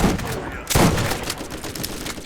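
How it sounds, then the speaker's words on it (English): Video game machine gun fire in rapid bursts, loud and close, with dense crackling shots clustered throughout and a heavier burst midway. "He's got a machine gun. But I can tell by the way it sounds, it's not a good one."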